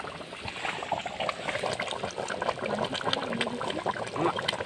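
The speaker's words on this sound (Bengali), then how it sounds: "এবার জিনিসটা ফুটবে তো বন্ধুরা" A pot of curry bubbles toward a boil, with continuous close simmering, bubbling and liquid gurgling and no talk.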